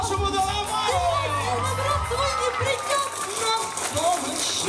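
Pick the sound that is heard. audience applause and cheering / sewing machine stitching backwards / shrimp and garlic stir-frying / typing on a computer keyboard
audience applause and cheering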